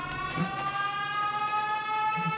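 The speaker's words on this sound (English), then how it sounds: "we can hear the brownout all the way until Vulcanus. It's a very, very loud siren." A loud brownout alarm siren from Factorio Space Age drones on as a steady stacked tone with a few faint clicks and thumps underneath, no talking over it.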